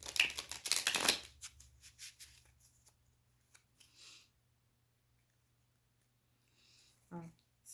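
Tarot cards are shuffled close by in a quick riffling burst during the first second, then fade into softer handling and quiet, with a brief voice near the end.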